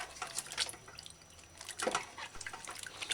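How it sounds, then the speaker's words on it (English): Herbal tonic root stems being rinsed in fresh water, with irregular splashes, drips and trickles close by, some sharper splashes punctuating a quieter running-water background. "Give stems a proper rinse in fresh water."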